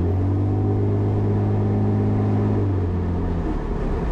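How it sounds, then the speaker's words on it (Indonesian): Running engine of a Tuksedo Studio 300 SL Gullwing replica car, a steady, loud low hum with a constant drone heard from the cabin that eases slightly near the end, with no voices. "Dengar kan suara mesinnya?"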